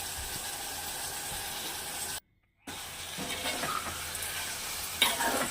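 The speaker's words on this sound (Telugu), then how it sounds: "పసుపు యాడ్ చేసుకొని బాగా ఫ్రై చేసుకోండి" Brinjal curry with turmeric, seasoned with rock salt, fries in a pan with a steady sizzle and hiss. Scraping stirring sounds run throughout, the sound drops out briefly near the middle, and a louder clank comes near the end.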